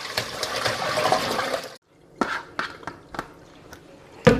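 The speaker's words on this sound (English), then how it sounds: "I'm going to drain them right here in my colander like this." Soaked beef tripe and beef feet pour into a colander with a rushing splash of draining water, then a silence, then several scattered wet clinks and drips, ending on a sharp clatter.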